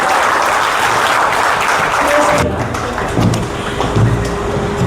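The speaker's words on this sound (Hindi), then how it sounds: "ताली बजाओ भाई, मेरी बैचमेट है यार।" Audience at an alumni meet claps steadily and loudly throughout, a continuous dense patter with some crowd murmur underneath.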